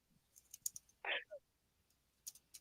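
A few soft clicks of typing on a computer keyboard come in short scattered bursts, with a brief voice sound partway through, all quiet and close.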